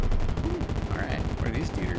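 Rapid video-game gunfire from shooting enemies in Verisim Skies, a dense run of repeated shots through the whole stretch with tonal electronic effects mixed in, loud and close, with a voice talking over it.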